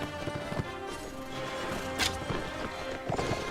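Horse hooves clopping in the medieval combat game Mount & Blade: Warband, a busy galloping patter amid loud battle noise with sharp impacts, no one speaking.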